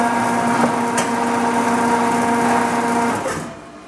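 A 1995 Iram 12 three-hole hydraulic paper drill runs with a steady, close mechanical hum and whine for about three seconds, then winds down and fades out at the end.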